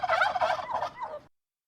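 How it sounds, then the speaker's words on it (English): A turkey in the Outer Worlds 2 video game gives one rapid, warbling gobble that lasts just over a second, up close and alone, then cuts to silence. "I can make a turkey sound."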